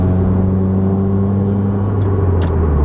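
A 2016 Subaru WRX engine cruises steadily below 4,500 RPM, a loud, continuous drone with steady low harmonics and no strong revving, heard alone from inside the car.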